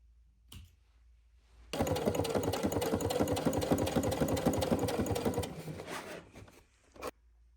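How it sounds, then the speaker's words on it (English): A sewing machine stitching the seams of a fabric tool roll, running in a fast, steady clatter for a few seconds close by, then slowing and stopping, with a brief click after. "I just sewed seams between the pockets"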